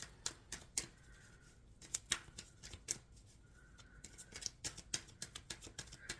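Tarot cards shuffled by hand in short crisp bursts of riffling and flicking, with sharp slaps between quieter stretches, close and fairly faint with no talking.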